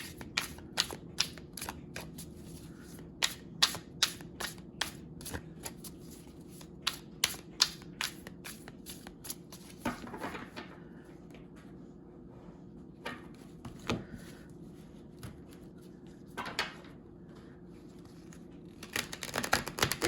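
A deck of Luna Sol tarot cards gets shuffled up close, with sharp irregular flicks and riffle bursts separated by quieter handling and brief pauses.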